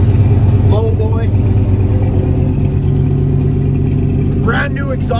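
A 3/4-ton pickup truck with a Dana 60 axle rumbles and revs loudly and close up through crushed exhaust mufflers, a steady deep engine drone with brief voices over it.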